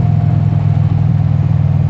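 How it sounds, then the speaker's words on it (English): Steady motorcycle engine under throttle, a continuous low mid-range drone with a firm harmonic hum holding level and loud for the whole stretch, no voices. "when you're on the throttle, it just pulls and pulls to the red line"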